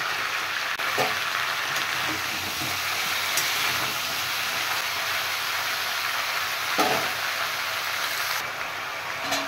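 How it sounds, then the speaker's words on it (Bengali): Crabs, eggs still inside, are lightly fried in oil in a pan, making a steady, dense sizzle that runs unbroken throughout with a few faint clicks and knocks. "হালকা একটু সাঁতলে নেব আমি কাঁকড়াগুলো।"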